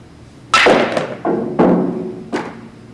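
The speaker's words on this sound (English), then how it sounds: "Now I'm going to try to draw the ball here" Four sharp knocks of a pool cue striking the cue ball on a draw shot, spaced irregularly over a few seconds, each a crisp close tap with a brief ring-off, no talking.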